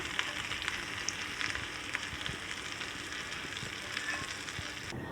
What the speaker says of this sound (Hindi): और अभी मैं इसमें रायते में तड़का डाल दूँगी।